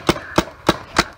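A paintball gun fires during a capture the flag game: four sharp, close pops at an even, quick rhythm, with no talking.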